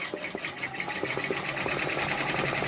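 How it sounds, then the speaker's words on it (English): An embroidery machine stitching a freestanding lace pumpkin design, with a fast, steady mechanical chatter of needle strokes running continuously up close. "we're going to go ahead and let it stitch this out"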